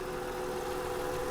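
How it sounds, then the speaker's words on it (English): A Mercedes E320 with 340,000 miles sits idling, its engine giving a steady, even drone with a constant low hum, close and unbroken. "Engine sounds good."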